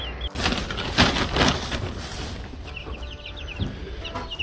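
Young egg-laying chicks chirp and cheep in a coop, with a steady busy chatter of small peeping calls close by and some brief higher chirps near the end.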